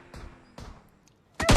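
Gunfire from another player in the video game PUBG: two distant, sharp shots spaced about half a second apart, then a much louder burst close by at the end.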